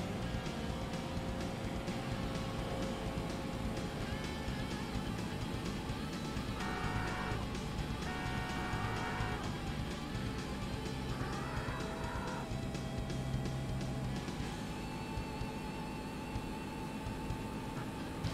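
Arcade racing game Daytona USA, a steady loud engine drone of a car accelerating with high revving tone throughout, with brief tire squeal bursts in the middle.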